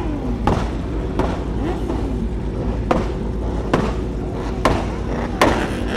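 Loud exhaust pops and bangs from cars at a car meet, sharp isolated cracks like fireworks spaced irregularly over a steady roar of engines and crowd noise.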